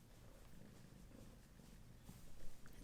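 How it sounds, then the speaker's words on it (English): Steady, rumbling cat purr close up, continuous and fairly loud throughout the short stretch. "His purr is so loud."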